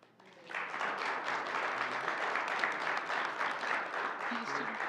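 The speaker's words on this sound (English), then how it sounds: "Let me clap here." Applause at a school board meeting, a roomful of hands clapping steadily for about four seconds after a quieter start, with a little background talk mixed in.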